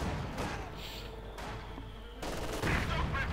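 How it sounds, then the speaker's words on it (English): An MG42 machine gun in Company of Heroes 2 fires several short bursts amid other battle noise, sharp clattering volleys separated by brief gaps, moderately loud. "Snipers wiped out in one swift, merciless burst of MD42 fire there"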